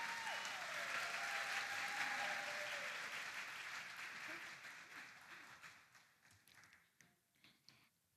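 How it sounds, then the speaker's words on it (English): A pageant audience at Ms. Senior Alabama 2025 applauds warmly for a judge, with dense clapping that gradually thins out into scattered claps while a voice briefly carries over the start. "Nice round of applause for Bree."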